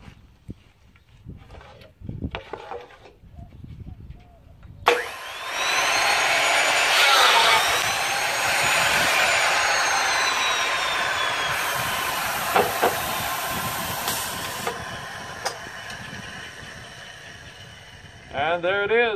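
A Grass Green Machine II hinge boring and insertion machine runs with a sustained loud hissing, whirring drone for about ten seconds, preceded and followed by clunks and knocks of a hinge being loaded and set.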